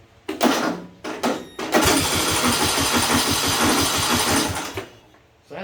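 A John Deere D110 lawn tractor's Briggs and Stratton engine, lacking compression, cranks over rapidly and steadily without catching, a fast rhythmic churning after a few short bursts, then stops.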